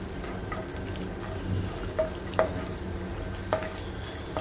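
Crunchy toppings for tender coconut payasam frying in a pan, a low steady sizzle with a few sharp clinks and scrapes of a spoon against the vessel.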